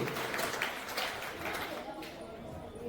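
An audience at a quiz competition gives a short burst of clapping that fades toward the end, with voices mixed in among the claps.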